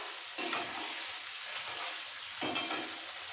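Green chilli paste sizzles steadily in a pan for fish curry, close and moderately loud, with a few sharp spoon strokes stirring it and no voices.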